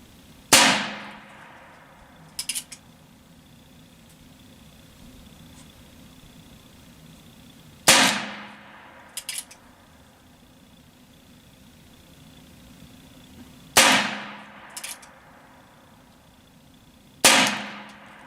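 Four sharp .22 rifle shots spaced several seconds apart at an outdoor range, each crack followed by a short ring and a fainter metallic clink from the target, with no voices between the shots.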